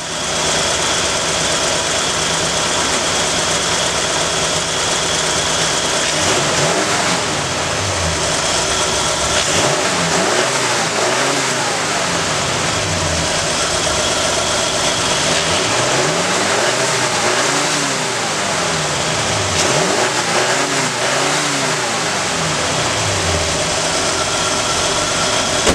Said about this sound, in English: I'll go and rev the engine up a little bit to see if that helps.